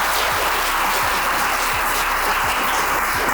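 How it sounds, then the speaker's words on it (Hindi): Steady applause from a seated audience at a motivational talk, a dense continuous wash of many hands clapping at even loudness throughout, with no voices standing out above it. "तालियां बजाओ इसके लिए।"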